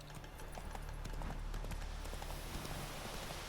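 Horse hooves galloping along a road in The Witcher 3, a steady quick clip-clop rhythm running throughout over a dense wash of game ambience.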